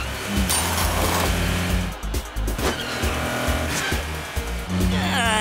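In a cartoon race, a trash truck and a race car roar and screech with loud, close engine revving, tire squeals and skids, with brief dips between bursts and talk mixed in.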